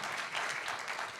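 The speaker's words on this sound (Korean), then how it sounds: "따뜻한 박수 부탁드리겠습니다" Audience applause at a forum session in Seoul, a dense steady clatter of many hands clapping together in a hall, fairly loud and continuous without pause.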